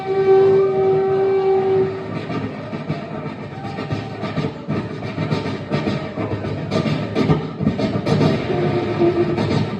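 A recorded train plays back loudly, opening with a sustained horn blast before settling into a steady rumbling, clattering passage of rail cars.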